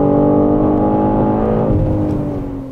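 A BMW M3 Touring engine pulls hard under acceleration on a race track, its steady harmonic drone rising and holding loud before easing off slightly at the end.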